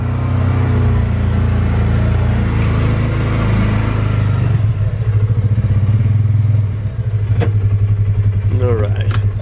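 A Ranger utility vehicle's engine rumbles loudly and close as it drives up onto a trailer, shifting into a rhythmic, clattering idle pulse near the end, with a brief voice.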